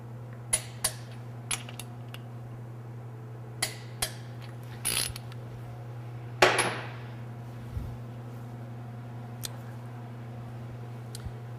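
A torque wrench tightens bolts on a turbocharged Oldsmobile V8 during an engine build, with sparse, sharp ratcheting clicks and one short ratchety burst over a steady low hum in a quiet shop.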